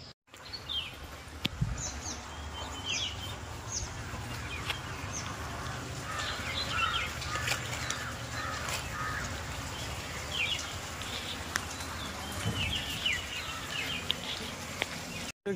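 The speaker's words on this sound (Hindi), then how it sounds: "यार आवाज़ सुनने चिड़ियों की यार" Scattered bird chirps and calls at Naimisharanya Dham, India, over a steady outdoor rumble, with brief high tweets recurring throughout.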